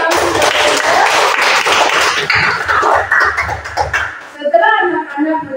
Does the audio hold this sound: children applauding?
yes